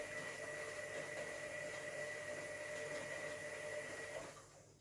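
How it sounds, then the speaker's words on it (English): A domestic washing machine runs steadily with a continuous motor hum and mechanical whir, loud and close, with a cat nearby; the noise fades slightly near the end. "Jack, you trying to get in the washing machine?"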